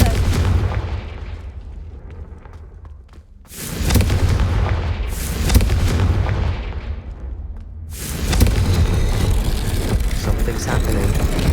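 Confringo fire spell blasts in Hogwarts Legacy, three loud booming bursts spaced a few seconds apart, each with a heavy, crackling roar that rolls on before the next one hits.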